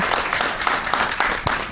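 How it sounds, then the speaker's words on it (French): Audience applause at an award ceremony for distinction and excellence, a brief burst of dense clapping from a crowd, steady and moderately loud. "si on peut déjà applaudir pour cette immense personnalité"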